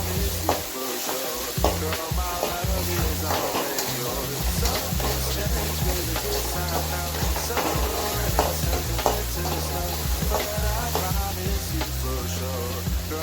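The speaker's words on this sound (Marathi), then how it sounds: "मिरची हे थोडंसं परतून घेत आहे." Green chillies and a coarse ground paste sautéing in a pan, a loud continuous sizzle with repeated stirring clatter, and faint voices now and then beneath it.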